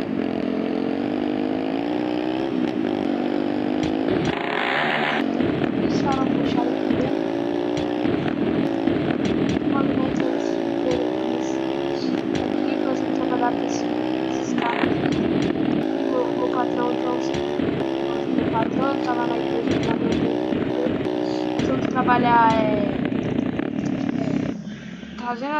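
A motorcycle engine in GTA San Andreas drones continuously, revving up and down with gear shifts, while someone talks over it for most of the stretch.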